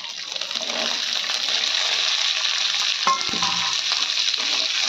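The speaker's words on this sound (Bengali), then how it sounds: "বরবটি ভাজা করছি, একটু কালো জিরে আর একটা শুকনো লঙ্কা দিলাম।" Long beans frying in a pan with black cumin and a dried chili, giving a loud continuous close sizzle with a brief stirring clatter near the end and no talk.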